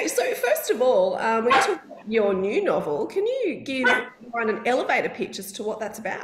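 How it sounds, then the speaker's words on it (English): A pet dog barks and yips in a home, several sharp bursts that overlap a person talking nearby. "that was my dog"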